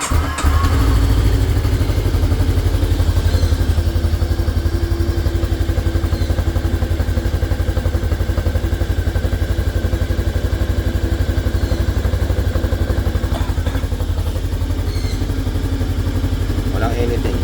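The engine of a Bristol Venturi 500 scooter runs steadily throughout, a loud, close, continuous motor drone with a rough mid-range idle. A start is not clearly audible.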